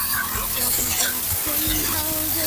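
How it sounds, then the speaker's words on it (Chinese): Shrimp fry in plenty of hot oil in a wok, a close, loud crackling sizzle with a spatula stirring and scraping through them in uneven strokes. "炒的过程当中把虾头的油挤一挤，这一步要多给它炒一会儿啊，炒到这种虾皮微微发焦就行了。"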